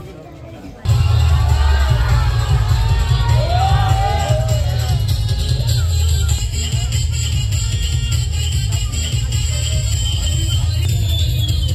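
An audience at a costume contest claps and cheers for a contestant, a loud, sustained roar of applause, shouts and crowd babble that starts abruptly after a brief quieter moment.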